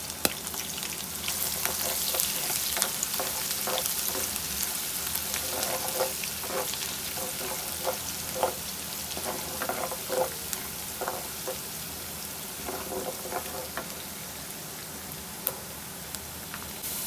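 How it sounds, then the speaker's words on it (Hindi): Chopped onion and a spoonful of white cumin frying in a pan for a homemade chana dish, a steady close sizzle with scattered crackles and pops running throughout, no voices. "हम इसमें ये 1 प्याज जो हमने काटी थी बारीक बारीक, ये डाल देंगे।"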